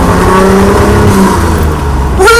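A Datsun 240Z engine revs hard in first gear, loud and close, then the tone drops as the driver shifts and it climbs again sharply in second gear.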